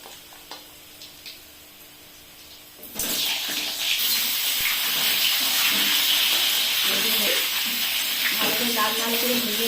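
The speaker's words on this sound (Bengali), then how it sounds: "এই আলুটা ভেজে নেব।" Boiled potatoes hit hot oil in a pan, and after a quiet start a loud, steady frying sizzle bursts in and continues close-up to the end.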